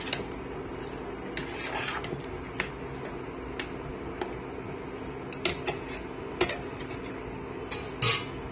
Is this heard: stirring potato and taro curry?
yes